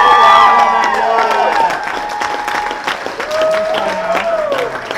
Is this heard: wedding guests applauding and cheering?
yes